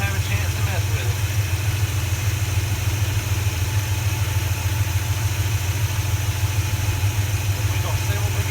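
A car engine with a 4 barrel carburetor sitting on a 2 barrel intake idles with a steady, deep, pulsing rumble, close and constant throughout, while a person talks over it.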